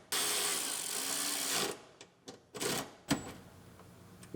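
Tools bolting a center console part into a rebuilt Acura RDX: a sustained whirring buzz of a power driver followed by several sharp clicks and clanks close by, with no talking.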